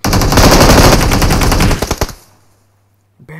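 Automatic gunfire in the mobile game PUBG Mobile: a loud, close burst of rapid shots lasting nearly two seconds, ending in a few spaced final rounds and then quiet.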